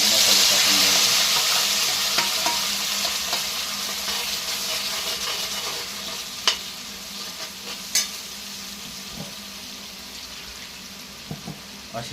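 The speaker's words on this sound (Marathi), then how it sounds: "त्यामध्ये मसाला टाकायचा. मसाला टाकून द्यायचा." Freshly added homemade stone-ground masala sizzles in a pan with garlic and onion, giving a strong hiss that slowly fades, with occasional stirring scrapes and clicks of a spoon against the pan.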